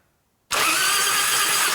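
Silence breaks as the 80ci Evo engine of a 1996 Harley-Davidson FXST Softail rat bike is spun over in a home garage, and a loud, dense mechanical whir sets in abruptly and holds steady to the end.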